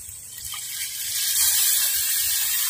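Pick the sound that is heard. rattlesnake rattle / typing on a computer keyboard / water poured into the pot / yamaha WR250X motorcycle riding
water poured into the pot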